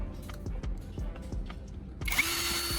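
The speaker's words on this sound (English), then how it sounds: "it has plenty of power to drive these screws into the wood" A cordless drill running on regular batteries drives screws into wood in short repeated bursts, about five quick pulses close by. A longer continuous whir of the motor follows near the end.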